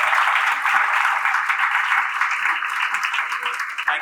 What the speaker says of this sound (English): Thank you for the generous applause.